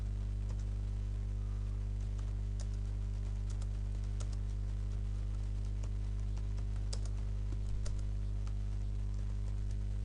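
Code is typed on a computer keyboard, a quiet irregular run of key clicks over a steady electrical hum, with no talking.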